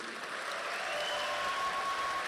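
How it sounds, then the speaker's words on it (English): A crowd applauds with steady, continuous clapping at a high school graduation ceremony. It is dense and even, heard from a moderate distance. "One more round of applause, please"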